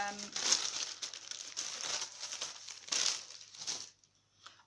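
Thin sewing-pattern tissue paper crinkles and rustles while handled, in close, continuous bursts that quiet briefly and then fade out near the end.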